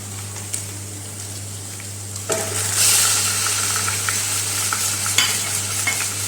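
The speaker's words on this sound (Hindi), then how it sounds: "चिकन हमारा अच्छी तरह फ्राई हो चुका है।" Chicken sizzles in a hot pan while a spoon stirs it, with louder bursts of frying as the pieces are turned over a low steady hum.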